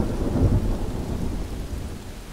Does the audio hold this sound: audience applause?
no